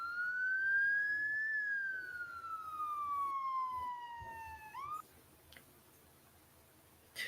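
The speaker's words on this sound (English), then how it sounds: "there are some sirens going on." A single emergency vehicle siren in Las Vegas wails in a slow rising and falling sweep, fairly distant, then cuts off abruptly, leaving quiet street ambience.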